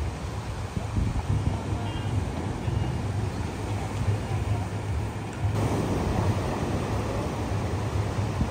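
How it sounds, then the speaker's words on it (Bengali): Sea waves breaking on Cox's Bazar beach on a cold winter night, where fishermen are hauling nets at rising tide, a continuous broad roar of surf mixed with wind noise, swelling louder partway through. "কি পরিমাণ ঢেউ আপনারা দেখতে পাচ্ছেন"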